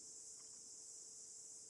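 A cicada calls as a steady, unbroken high-pitched buzzing drone, constant in level and heard alone against otherwise quiet surroundings.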